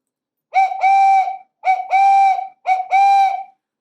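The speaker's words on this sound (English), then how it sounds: "let's blow the whistle one more time." Three short two-toned whistle toots, each a brief blast followed by a longer one, clear and close with short pauses between.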